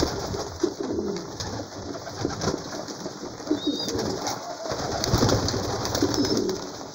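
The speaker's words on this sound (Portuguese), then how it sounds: "Quantos pombos vocês calculam tem aí," Many pigeons gathered in a loft coo in a dense, continuous murmur, with soft rustling and occasional wing movement nearby and no talking.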